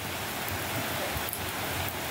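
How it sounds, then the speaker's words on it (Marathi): Heavy rain pours down in a village, a dense, even hiss with no voices over it. "पाऊस जरा आधी कमी होऊन दे"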